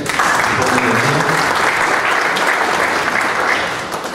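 A rural development community forum audience applauds a bank association manager, loud sustained clapping from many hands throughout, with a voice briefly audible beneath it before it fades slightly at the end.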